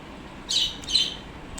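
Outdoors, a couple of brief, shrill bird calls sound in quick succession over a quiet background hum, moderately close.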